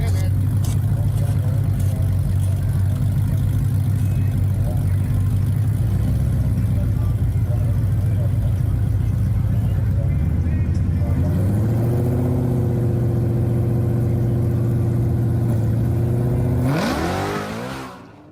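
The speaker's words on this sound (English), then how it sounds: "here's a example of you know, what happened when we tried to really launch the car" A Whipple supercharged Ford GT500 launches hard at a drag strip, its engine droning loud and steady, then climbing in pitch as it revs up before cutting off abruptly near the end.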